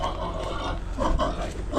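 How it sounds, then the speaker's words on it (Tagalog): Pigs on a Filipino backyard farm grunt and snort in low, rough bursts, several calls overlapping at close range. "Yung mga baboy pa pala,"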